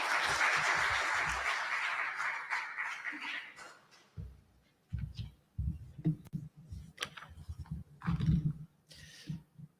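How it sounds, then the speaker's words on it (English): Audience applause at the 6G Global Summit in Bahrain, a dense wash of clapping that fades out over about four seconds before a speaker starts talking. "So please give a warm round of applause for Kostas, please."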